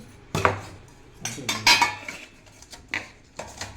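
Ceramic plates, bowls and lids clatter and clink as lunch is served at home, a series of sharp close knocks and scrapes in irregular bursts with quiet gaps between them.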